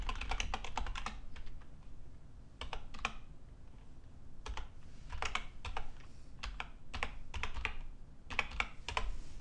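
Bursts of rapid keyboard typing, clicking keys in quick clusters separated by short pauses, fairly close with a steady low background hum.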